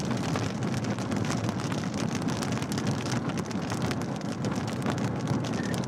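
Hail and rain pound a storm chaser's car during a Southern Plains tornado chase, a dense, steady roar of impacts that runs unbroken and close throughout, with no voices.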